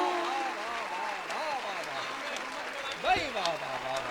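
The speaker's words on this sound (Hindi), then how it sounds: "यकीन मानो तुम्हारी तालियां हिम्मत बढ़ाती हैं" Applause from the audience at a Hindi poetry recital (kavi sammelan) is heard as steady clapping beneath the poet's voice, which speaks over it throughout.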